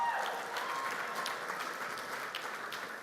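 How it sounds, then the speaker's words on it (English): Audience applause at a 2018 civic leaders' celebration in Mountain View: a steady, dense patter of many hands clapping, moderately loud and sustained for about three seconds with no talk over it. "so give Heidi a round of applause."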